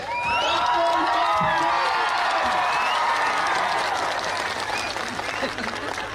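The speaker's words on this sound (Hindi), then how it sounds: "अपने आप के लिए ताली दीजिए।" A large, packed audience applauds with scattered cheers and whoops, a loud continuous wall of clapping that slowly thins toward the end, while a voice speaks over the crowd.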